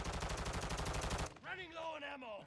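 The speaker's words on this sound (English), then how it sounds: "That was me shooting." Rapid automatic gunfire from Call of Duty MW2 rattles steadily and loudly for over a second, then cuts off as a voice takes over.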